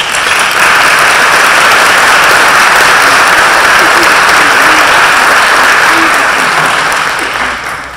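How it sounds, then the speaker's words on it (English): At a chamber of commerce annual meeting, an audience gives loud, dense applause for the staff, steady and close throughout before tapering slightly at the end. "Applause maybe for the staff."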